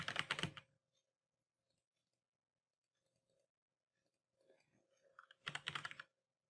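Typing on a computer keyboard while entering GDL parameters: two short, dense bursts of clattering keystrokes at the start and end, with near-silence and a few faint clicks between them.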